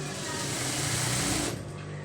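A sewing machine runs steadily for about a second and a half while stitching the boat neck of a blouse, a continuous close whirr that cuts off near the end.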